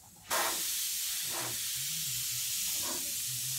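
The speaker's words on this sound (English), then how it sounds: "You stay square to the stencil when you're airbrushing so you don't blow paint underneath the" An airbrush sprays paint over a poster board stencil in a steady, close hiss that starts abruptly and runs on without a break, with faint low hum underneath and no talking.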